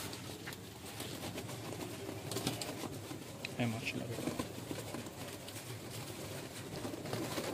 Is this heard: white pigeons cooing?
yes